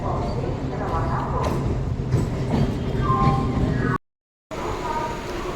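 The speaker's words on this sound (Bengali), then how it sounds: "ট্রেনটা আসছে হাওড়া থেকে ব্যান্ডেল" A Howrah–Bandel local train pulls into a station platform with a loud, close, rumbling roar and rattling carriages. The noise is continuous apart from a short dropout, with voices in the background.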